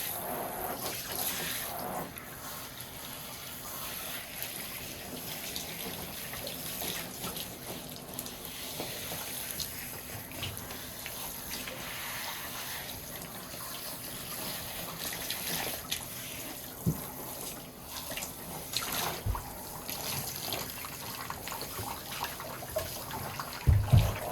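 Steady running water during an indoor dog wash, continuous and fairly close, with occasional small splashes and knocks and no talk.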